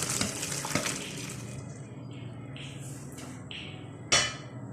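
Boiled raw mango pieces are strained and the water drains off, giving a rushing pour of water with splashes and a sharp clatter near the end, close by in a kitchen.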